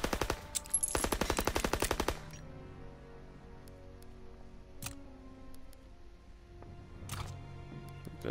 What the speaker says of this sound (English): Got this new machine pistol